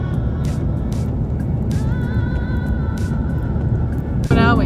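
A car drives across the Nullarbor plain, a steady close road and engine rumble inside the cabin, with people talking over it and a brief clatter at the end.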